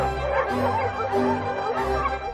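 Several dogs at an open-air shelter built for a thousand dogs bark and yip in overlapping bursts. The sound is fairly loud and busy, with no talk.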